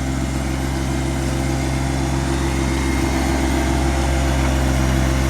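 Tractor engine idling steadily nearby on a rural property, a loud, continuous low droning hum with a stable pitch and no break, no voices.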